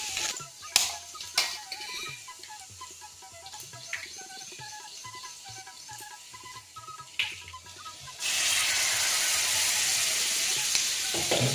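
Spinach curry with onion and green chilies fries in a pan, with a soft sizzle and occasional stirring clatter. Bird chirps sound in the background, and a louder, steady hiss takes over in the final few seconds.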